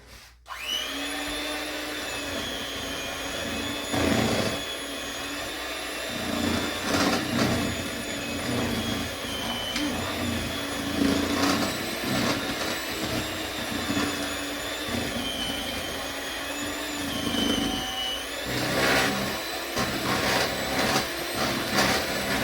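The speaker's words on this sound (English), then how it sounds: "Then we're going to get our mixer back out." An electric mixer whirs nonstop while it beats soft banana pudding cookie dough. The motor hum is close and steady, its pitch shifting slightly as the beaters work through the dough, and no one speaks.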